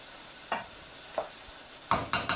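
Fried rice cooking in a pan, with a soft steady sizzle under a few sharp scraping stirs of the spatula, the last ones coming in quick succession.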